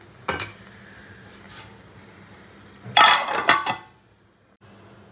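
A spoon stirs pulao in a cooking pot, giving a brief clatter early on and a louder burst of scraping and knocking near the middle, then quiet with a faint hiss of the pot.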